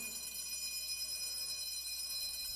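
Bells ring continuously in a soft, shimmering metallic wash, self-recorded for use in a music piece, steady and faint throughout with no voices.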